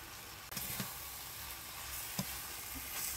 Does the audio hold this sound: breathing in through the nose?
no